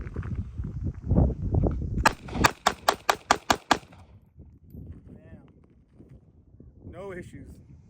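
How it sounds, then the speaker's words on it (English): A Sig Sauer P238 pistol fired outdoors in a rapid mag dump, seven sharp, loud gunshots in quick even succession, with someone talking before and a voice and wind noise after. "mag dump, see if there's any failure to feed or any other issues that may occur"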